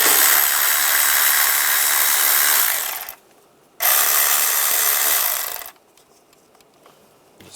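A power ratchet with a 10mm socket loosening worm clamps on a 1996-2002 Toyota 4Runner intake: two loud close bursts of whirring drive, the first about three seconds, a brief pause, then another, followed by faint clicks.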